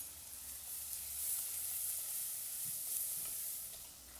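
Onion fries with ground coriander, cumin and turmeric in a pan, giving a steady, fairly quiet sizzle and hiss throughout with no talking.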